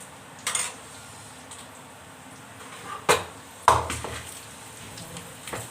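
Pieces of arbi (taro root) go into a pan for frying, making a few soft, scattered clinks and clatters over a faint steady kitchen hiss.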